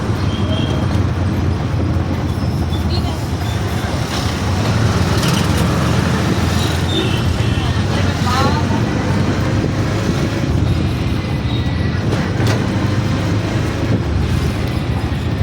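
Busy Hyderabad road traffic heard from inside a moving auto rickshaw: a constant loud engine and road roar with passing vehicles, and faint voices under it.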